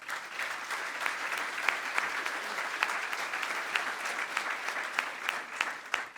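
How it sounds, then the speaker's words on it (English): Audience at a business achievement awards ceremony gives a dense, sustained round of applause, many hands clapping evenly and fairly loud throughout with no speech over it. "So please join me in a round of applause"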